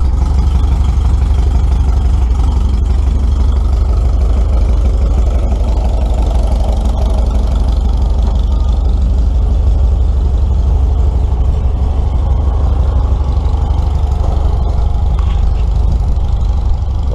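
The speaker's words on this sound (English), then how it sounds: "A lot of very large steam engines here." Very large steam engines run at an outdoor threshing show in Dalton, Minnesota, giving a continuous deep, loud rumble with faint show noise drifting over it and no one speaking.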